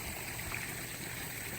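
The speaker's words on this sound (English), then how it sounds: "waterfall and that filter, and then that flows back into the pond." A backyard pond waterfall runs water through a filter and back into the pond, producing a steady, even rush of flowing water close by with no talking.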